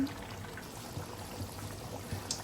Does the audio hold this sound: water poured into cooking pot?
yes